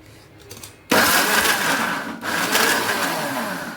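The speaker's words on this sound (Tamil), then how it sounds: "இது எல்லாத்தையுமே நான் சும்மா கையில் பேசாமல் அழகாக மிக்சியிலே அரைச்சிருக்கேன்" An electric mixer grinder grinds boiled green banana in a loud, steady whirring drone. It starts abruptly, dips briefly and then runs on close by.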